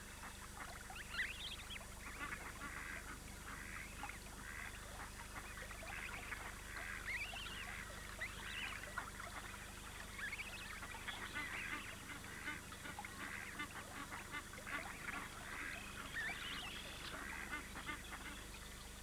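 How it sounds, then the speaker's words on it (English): Giant Canada geese on a wildlife refuge in the Dakotas honk repeatedly in a scattered chorus, the calls moderately distant over a faint background murmur. "Giant Canada geese now breed freely in the wild as well as on the refuge."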